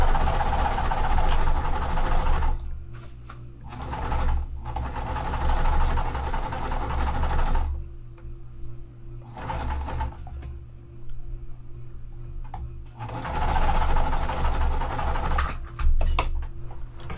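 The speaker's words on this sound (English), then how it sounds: "we are going to sew down here" A sewing machine stitches a quilt seam in bursts of steady mechanical whirring, running for a few seconds, pausing, then starting again, close and fairly loud with no talking.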